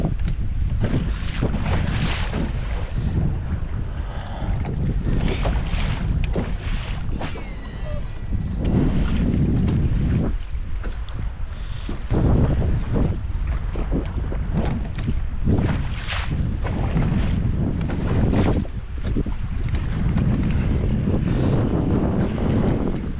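Small fishing boat pounding through waves on the Columbia River in heavy wind, with repeated loud slaps and thumps of the hull against chop over a constant roar of wind buffeting the microphone.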